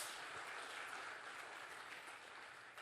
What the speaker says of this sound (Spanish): Dele aplauso al Rey por eso.